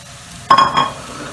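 A short scrape-and-sizzle as broccoli, mushrooms and tomato are stirred in a hot pan, two quick strokes over a faint background hiss.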